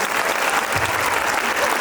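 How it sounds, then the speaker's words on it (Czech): Steady applause from an audience at a dance exhibition show, dense and continuous clapping filling the whole stretch with no voices over it. "Potlesk!"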